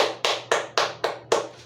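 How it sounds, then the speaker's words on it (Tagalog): A class applauding a student with six sharp, evenly spaced claps in a steady rhythm, each one crisp and close, with no talking. "Bigyan natin siya ng palakpak."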